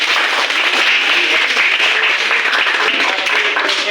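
Loud, close, dense clapping from a classroom group after a student presentation, sustained and even from start to finish.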